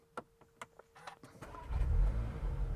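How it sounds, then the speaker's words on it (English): A VW Arteon R Shooting Brake is started: a few soft clicks come first, then the engine cranks and catches, settling into a close, steady, rumbling idle. "if I start the car"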